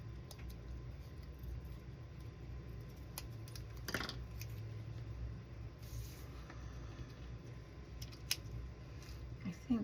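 Scissors snipping out a small paper circle from a die-cut scallop square at a craft table, with light irregular cuts and handling rustle, close and fairly quiet.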